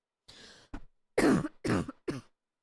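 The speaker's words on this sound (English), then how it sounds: "And I end up going into a coughing fit sometimes." A person falls into a coughing fit while chewing, giving five harsh, close coughs in quick bursts with short pauses between them and no talk over them.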